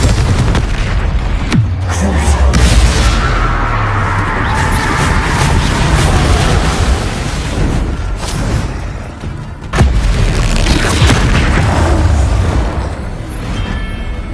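Confringo fire spell explosions in Hogwarts Legacy, a dense, loud barrage of booming blasts and crashes that runs almost continuously, with sharp hits near the start and again midway.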